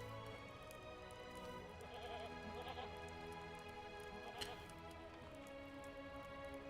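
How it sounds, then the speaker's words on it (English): Goats bleating in the Lord of the Rings Online MMO, in the Grey Mountains of Ered Mithrin, with repeated bleats over a steady bed of game music and ambience. "More goats, more goats."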